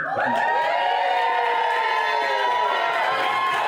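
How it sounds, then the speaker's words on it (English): Wedding guests cheer and whoop loudly during the speeches, with higher girls' voices rising above the crowd in a sustained burst of shouting and applause. "Bigger cheer from the girls, I see."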